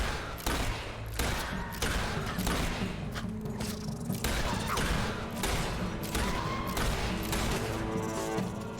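Gunfire aimed at Sand Furies in the video game Fable 3: a loud, dense run of repeated shots and impacts that continues through the whole stretch, with no talking.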